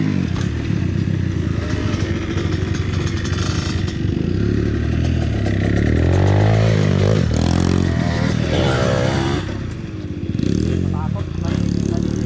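A motocross motorcycle rides an enduro trail in Mindoro, Philippines, its engine loud and close, revving and labouring with rises in pitch, with scraping and clattering over the top and a voice talking at points.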